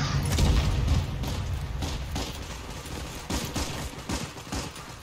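Gunfire in the H&G video game, a flurry of rapid shots and mechanical clatter, loud at first then continuing in uneven bursts over a low rumble.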